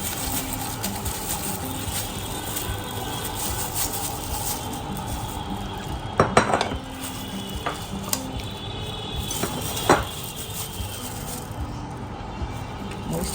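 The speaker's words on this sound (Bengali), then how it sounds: "প্রথম আমটা আমি ঢেলে দিলাম" Raw mango pieces tip into a large cooking pot as a steady stirring, scraping texture with a couple of brief clattering knocks against the metal, no liquid in the mix.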